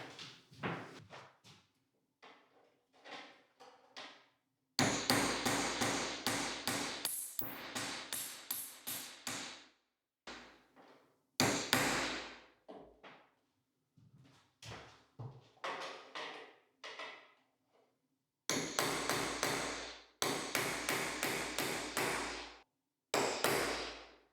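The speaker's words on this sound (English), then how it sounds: "it's usable as a sort of precise nail driving tool" Sharp, close hammer blows drive nails into woodwork in an office renovation, coming in irregular clusters of rapid taps separated by short pauses.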